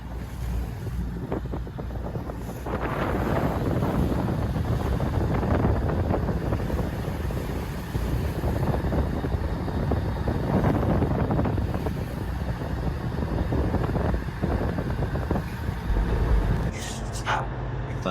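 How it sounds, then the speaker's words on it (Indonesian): Strong west wind roars over a boat at sea on a choppy crossing between Pegatan and Banjarmasin, a steady broadband rush with waves slapping the hull and gusts buffeting the microphone, loud and continuous with no talk. "Angin barat mengamuk."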